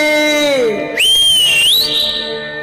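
A sharp whistle is blown at a local cricket tournament match, one sustained shrill tone that slides and wavers, loud and close, rising after a lower voiced sound at the start.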